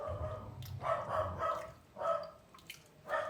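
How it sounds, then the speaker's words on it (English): A dog barks repeatedly in the background, several muffled yaps in an uneven rhythm, faint and somewhat distant over room noise; no talking. "I can hear my dog going crazy as well"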